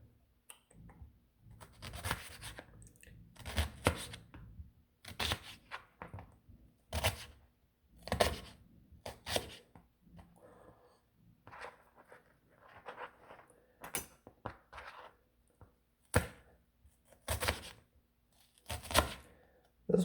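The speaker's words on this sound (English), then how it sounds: "So I'm gonna cut up this onion." Kitchen knife chopping an onion on a cutting board for fried rice, a series of sharp, close taps and thuds coming in uneven bursts, some quick runs of cuts, with quiet gaps between.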